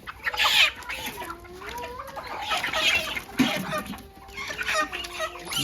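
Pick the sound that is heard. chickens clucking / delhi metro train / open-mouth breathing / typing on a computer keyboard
chickens clucking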